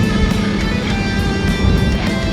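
A 2019 Mustang GT with a Borla S-Type cat-back exhaust in quiet mode gives a loud, steady, low engine drone that holds evenly throughout.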